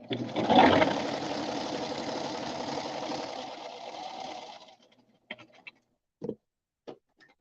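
A sewing machine stitches scrunchie fabric in a close, steady whirring run that lasts about five seconds. It then stops, and a few short, sharp mechanical clicks follow with silence between them.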